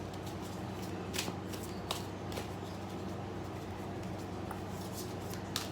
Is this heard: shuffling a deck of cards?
yes